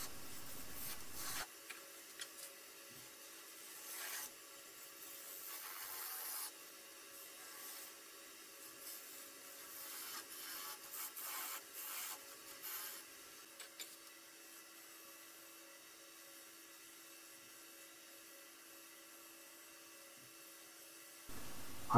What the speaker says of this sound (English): Apart from a spindle gouge, this parting tool is a quick way of shaping a bead.